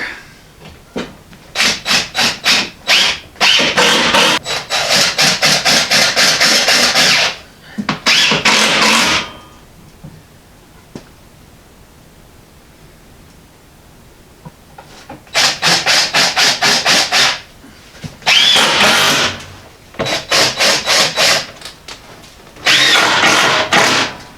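A power drill drives 1.25 inch screws into the wood of a shipping crate, with several loud bursts of whirring each lasting a few seconds, separated by quiet pauses.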